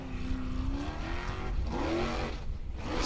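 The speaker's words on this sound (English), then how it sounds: "So much power in that car" A powerful formula offroad car in Icelandic competition at Hella climbs a steep hill, engine revving hard and rising in pitch with a loud continuous roar, heard at a moderate distance.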